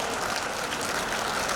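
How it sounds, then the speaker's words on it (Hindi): Audience applause at the grand finale of a reality TV show, a steady wash of clapping with no pauses, moderately loud and continuous throughout the short stretch. "आप सबकी जोरदार ताली के बीच नेक्स्ट परफॉर्मेंस एंजॉय करते हैं जी"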